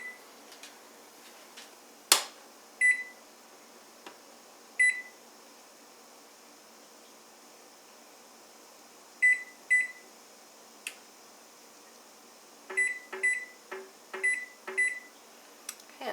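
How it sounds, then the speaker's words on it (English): An oven timer in a home kitchen is set with a run of short electronic beeps, single chirps at first then a quicker cluster of button presses near the end, over a faint steady hum. "So I'm going to go ahead and set my timer."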